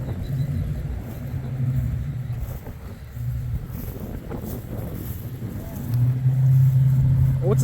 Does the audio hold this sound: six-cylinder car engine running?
yes